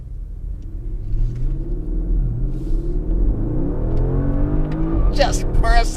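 Porsche Panamera Sport Turismo (2018) engine revving as the car accelerates, a close, loud rumble with rising, sweeping engine tones over several seconds, with speech and brief bursts of higher noise near the end.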